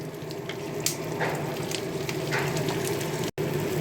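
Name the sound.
chopped onions frying in oil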